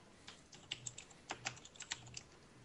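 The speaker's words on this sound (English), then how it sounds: "I can hear typing." Typing on a computer keyboard: quiet, irregular bursts of key clicks with short pauses in between, close by and alone in a hushed room.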